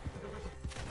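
A horse's hooves in a Wild West video game clip-clop in a short run of dull, soft thuds, fairly close and alone.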